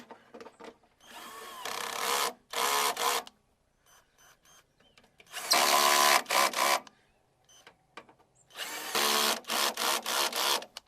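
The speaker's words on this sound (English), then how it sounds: "And grab the drill. You want to put this on the lowest setting you can." Power drill on its lowest setting driving screws into the plastic bumper of a 2004 Dodge Caravan, heard as three loud bursts of whirring, each made of several short pulses and separated by quiet gaps.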